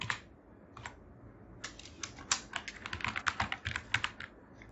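An Excel COUNTIF formula being typed on a computer keyboard, quiet close key clicks starting sparse then speeding into a fast irregular run of keystrokes.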